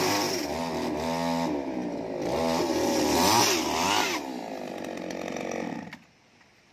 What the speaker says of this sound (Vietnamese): Giờ anh em thợ thì đang dùng máy cưa để cắt gỗ ván ấy